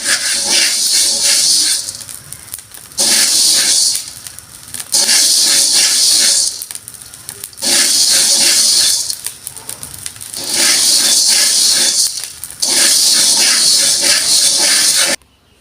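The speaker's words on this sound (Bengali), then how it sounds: "এভাবে চাউল ভাজলে কিন্তু চাউলগুলা খুব সুন্দরভাবে মুড়ির মতন করে ভাজা হয়ে যাবে আর ফুলে উঠবে" Rice dry-fried in a pan until it puffs like muri, for rice naru: loud bursts of rattling hiss come in regular waves about every two to three seconds, with quieter gaps between each stirring.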